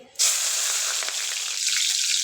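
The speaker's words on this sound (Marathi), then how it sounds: "जिरे मोहरीची चांगली फोडणी पटवून घ्यायची आहे" Cumin and mustard seeds spit in hot oil for a tempering with green chillies. A loud, steady sizzle breaks out suddenly and holds without any talk.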